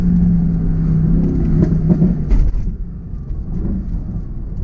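A 2018 Mercedes-AMG GT C's engine idles and revs with a deep, close rumble, rising in short blips before settling back to a steady low idle, with no voices.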